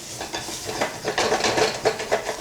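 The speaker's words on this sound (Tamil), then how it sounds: "இது வெங்காயத்தில் இந்த மசாலா நல்லா பிடிக்கிற அளவுக்கு வதக்கணும்." Onion and masala sauté for a goat brain fry, with repeated scraping stirs of a spatula in the pan over a low, crackling sizzle, growing busier toward the end.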